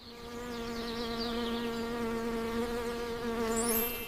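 Bees buzz steadily around blooming rambutan flower clusters as they pollinate, a continuous close insect drone with a rising whine near the end and no talking.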